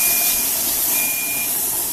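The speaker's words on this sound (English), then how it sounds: "allow it to vent a steady stream of steam for 10 minutes" A steady, loud hiss of steam venting from a pressure canner while canning celery runs throughout, with a thin high-pitched tone sounding on and off above it.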